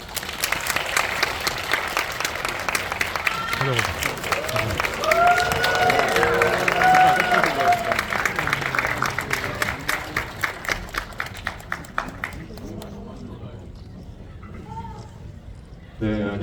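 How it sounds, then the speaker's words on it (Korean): A packed cinema audience claps steadily at a film's opening-week stage greeting, the applause swelling and then thinning toward the end while voices speak over it. "큰 박수 부탁드립니다"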